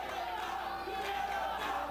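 A wrestling crowd at an indoor tag team championship show at the Edgewater roars in a sustained, rhythmic Canada chant. The dense, loud mass of voices fills the hall.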